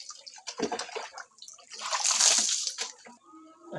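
Someone dips into cold winter bath water, with repeated splashes and sloshing that swell into a loud, continuous wash of water near the middle before easing off.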